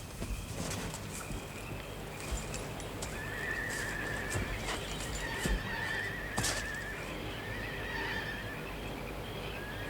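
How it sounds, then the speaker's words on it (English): Horses whinnying several times, drawn-out high neighs at moderate distance, with hooves clip-clopping and shuffling in the background. "It's the horses."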